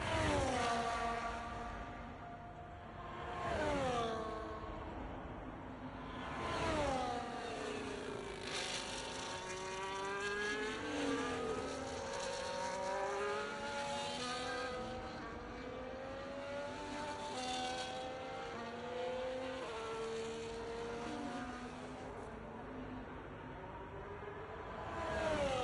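High-pitched F1 race car engines from an F1 video game at the British Grand Prix, several cars revving and sweeping up and down through gears continuously, loud and overlapping, with no talk.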